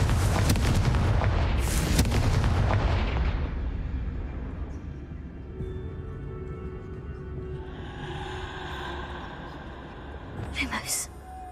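A Confringo blasting spell in Hogwarts Legacy goes off with a loud, deep blast at the start, then rumbles and fades over several seconds. A faint crackle follows near the end.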